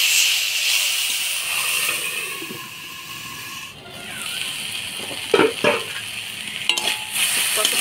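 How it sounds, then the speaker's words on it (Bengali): Chopped thankuni (Indian pennywort) leaves sizzling in hot oil with a little salt, a steady frying hiss throughout with occasional scraping stirs and a few spoon knocks against the pan near the end. "থানকুনি পাতাগুলো ভাজে নিলাম"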